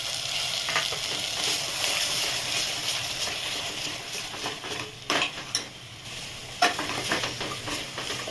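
Sprouted home-grown chickpeas stirred and fried in a masala base in a pan, a steady sizzle running throughout with occasional scrapes and clinks of a spoon against the pan, no talking.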